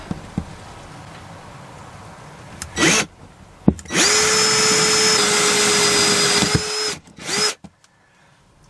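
A power drill bores a hole through the body of a camper van to fit a diesel heater, with a loud steady whine lasting about three seconds, framed by short bursts and quieter handling noise.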